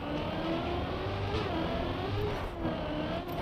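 A race car in a video game slides through a right-hand drift, its engine holding a steady, loud whirring drone throughout with no voices.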